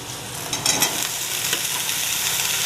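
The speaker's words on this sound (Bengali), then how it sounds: "এখানে পেঁয়াজ আর কাঁচা লঙ্কা কেটে রেখেছিলাম, এটা আমি দিয়ে ভেজে নিচ্ছি।" Onions, green chillies and chopped vegetables fry in white oil for a homemade non-veg chowmein, a steady close sizzle with a few brief stirring scrapes and no talk.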